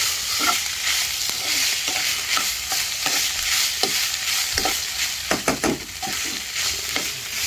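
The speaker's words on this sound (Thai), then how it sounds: "เดี๋ยวเราผัดให้หอมนะครับ ผัดให้หอมเลย" Curry paste for a Thai beef and pickled bamboo shoot curry being stir-fried in a pan, a steady loud sizzle with repeated scraping strokes of the spatula, sharper clatters near the end, no talking.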